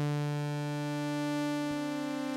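A sustained Omnisphere synth tone layered from the OB8 sawtooth waveform holds a bright, buzzy, harmonically rich pitch steadily at moderate volume, alone with no voices.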